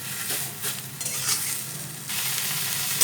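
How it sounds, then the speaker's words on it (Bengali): Bottle gourd leaves frying and being stirred in a pan, a soft steady sizzle with scraping stirs that swells and drops as the leaves are turned, heard close and quiet. "আর একটু একটু নেড়ে নেড়ে এপিট ওপিট করে দিতে হবে।"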